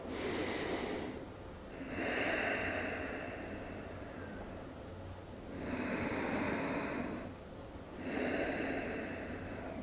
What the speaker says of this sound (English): breathe through your nose into your belly.